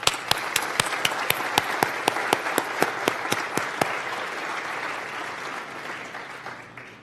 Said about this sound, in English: they have all earned an additional round of applause